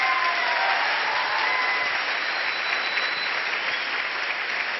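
Dense, steady audience applause fills a seminar hall at an RCM business seminar, loud and continuous from start to finish with no voices over it.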